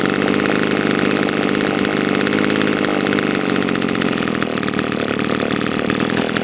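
A Robin NB16 small petrol engine runs at high RPM, slightly rich after repair work, a loud, steady, buzzing drone that holds throughout without a break.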